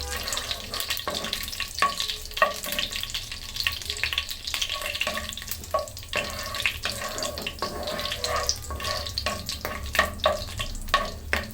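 Garam masala spices fry in a pan before pulao rice goes in, a continuous crackly sizzle with repeated clinks and scrapes of stirring, along with running-water sounds in the kitchen.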